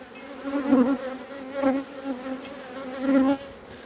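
Honeybees fly around an opened hive during a spring apiary inspection, their buzzing close and fluctuating in several swelling passes as individual bees circle near.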